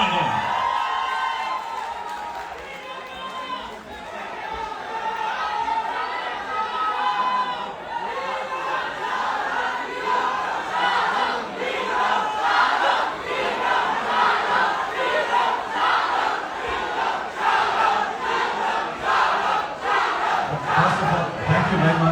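A large live crowd at a Bollywood event for the film Pathaan with its lead actor claps and cheers loudly, rhythmic clapping and shouting swelling over the full stretch, mixed with voices.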